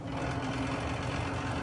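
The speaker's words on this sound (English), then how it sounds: "That little exhaust fan." An old kitchen exhaust fan that vents out to a driveway runs with a steady, close, droning whir and a faint mechanical rattle throughout.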